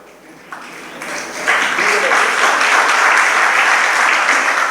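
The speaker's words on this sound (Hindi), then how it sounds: "अब बजाओ ताली।" A seated audience at a Jain religious discourse in Agra breaks into clapping, beginning sparse and then swelling into dense, sustained applause filling the room.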